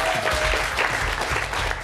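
Studio audience at a New Year quiz show applauding the competing teams, a dense, loud burst of clapping filling the whole brief moment with no talk over it.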